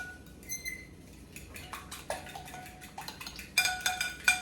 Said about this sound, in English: You want to give that a nice stir.